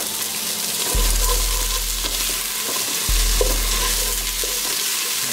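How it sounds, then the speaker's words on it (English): Onions sauté in a hot pan for spicy Korean-Chinese seafood soup, giving a loud, dense, continuous sizzle with low thumps of stirring and no voices. "Then I'm going to immediately add the onions."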